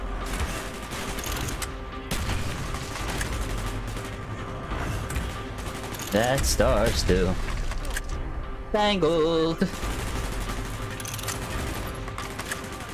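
Gunfire crackles in Call of Duty Black Ops, a dense ongoing fusillade of shots with louder bursts at intervals, while voices talk over the combat.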